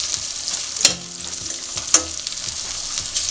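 Onions sautéing in hot oil in a pan for a pepper chicken gravy, a steady close sizzle with a couple of sharp spoon scrapes and taps as they are stirred.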